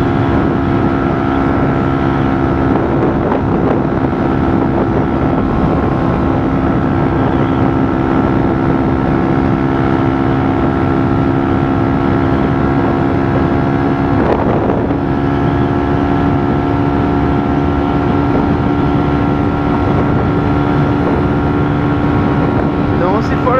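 Strong, steady wind roars continuously at close range while riding a motorcycle fitted with an aftermarket exhaust at around 120, mixed with a constant engine drone and no break in loudness.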